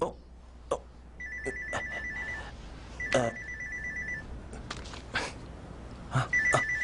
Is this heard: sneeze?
no